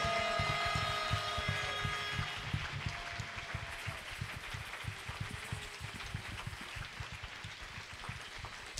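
A church congregation claps and cheers in praise of the Lord, a dense continuous wash of applause with rhythmic clapping pulses, while sustained organ or keyboard tones sound underneath.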